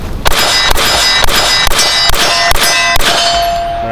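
Handgun shots strike steel targets on a shooting range, making a rapid series of about eight loud, ringing metallic clangs in quick rhythm, each with a bright sustained ring.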